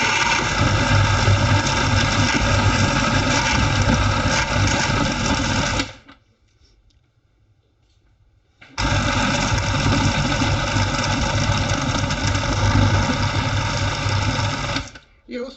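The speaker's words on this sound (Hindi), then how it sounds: "ये उस वक्त तक पीसना है जब तक ये पाउडर ना हो जाए।" An electric grinder whirs as it pulverizes garam masala spices into powder, a loud, steady motor drone running in two long stretches with a short quiet gap between them.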